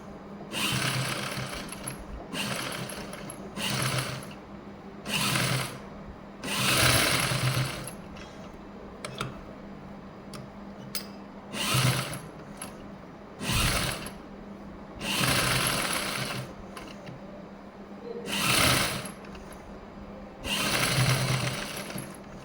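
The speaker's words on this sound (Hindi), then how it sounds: "अब हम इसके किनारे पर एक सिलाई लगा लेंगे, किनारे किनारे पर" A sewing machine stitches along the edge of a blouse sleeve, a loud, close motor whir in short repeated bursts of a second or two, separated by brief pauses.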